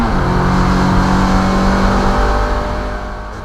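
Mazda MX5 race car on track at Llandow Circuit during a shakedown and tyre test, its engine droning loud and steady under load before easing slightly toward the end, with no voices present.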